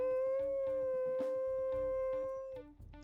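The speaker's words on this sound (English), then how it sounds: "it's a short, simple howl to get them all to come over" Short, deep wolf howl from a video game, a single sustained tonal call that holds steady and then drops off, heard clearly over a faint rhythmic game backdrop.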